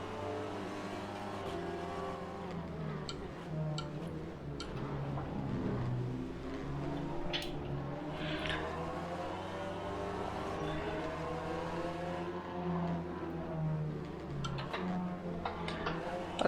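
Race car engines drone and whine in Assetto Corsa, a steady rising and falling rev note with shifting pitch as cars accelerate and pass, continuous and alone with no talk.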